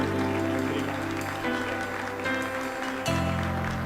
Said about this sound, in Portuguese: Eu quero que você dê uma salva de palmas